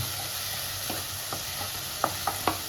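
Paneer bhurji with spices stir-fried lightly in a pan: a steady soft sizzle underneath, with a few light scraping stirs and sharper clicks of a utensil toward the end, close and moderate in level, no talking.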